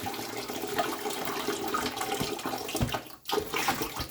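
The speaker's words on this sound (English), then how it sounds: "Then I drain all the coolant again using the same hose method." Jeep YJ radiator coolant pours out through a hose in a steady rushing splash onto a garage floor, continuous and fairly close, with a short break near the end before resuming.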